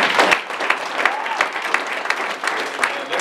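A church congregation claps in praise, a dense run of sharp, close handclaps carrying on steadily throughout with a faint murmur of voices beneath.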